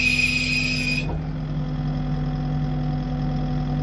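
A machine engine runs at a steady idle to power the hydraulics of a log splitter grapple attachment, with a constant mid-pitched drone and a brief higher whine at the start.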